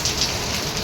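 Steady rain pours outdoors in a dense, continuous hiss, close and even, with no voices.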